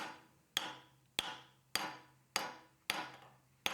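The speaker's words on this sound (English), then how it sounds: "when hammering on a hardened object, use a mallet so that it doesn't shatter in your face" A mallet strikes a hardened knife blade clamped in a vise, six sharp, evenly spaced blows, each ringing briefly before fading, with no talk.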